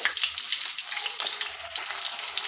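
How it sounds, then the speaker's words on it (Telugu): A small chopped onion hits hot oil for a chicken and drumstick curry, making a bright, hissing sizzle that stays close and steady with light crackles. "నూనె వేడైంది ఒక చిన్న ఉల్లిగడ్డ ఇదైతే దూర వేయాలి"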